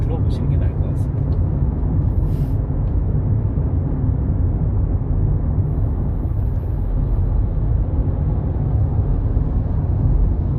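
Steady broadband road and tire roar inside a 2020 Volkswagen Jetta cruising in sixth gear on a rough road, loud and even, with a few faint ticks near the start.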